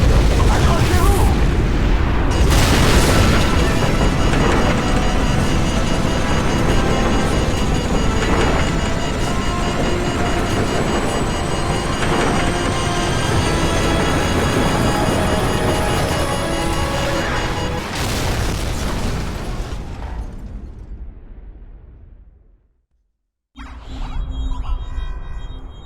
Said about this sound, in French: Cela semble être une explosion gigantesque.